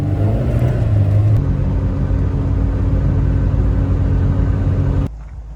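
Suzuki Samurai with a 2.0L engine driving, a steady low engine drone and road rumble holding constant throughout before abruptly dropping off near the end, fairly loud and close with no talking.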